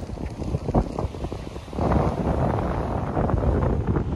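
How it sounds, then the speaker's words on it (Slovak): Strong wind gusting at Maroubra beach in Australia, a loud steady roar of buffeting noise on the microphone that grows heavier halfway through, with faint surf in the background. "strašne moc tu fúka, strašne moc"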